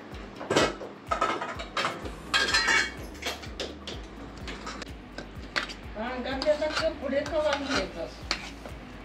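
Ragda, a mashed potato curry, is stirred in a pot, with a utensil clinking and scraping against the metal in irregular strokes at close range while people talk over it.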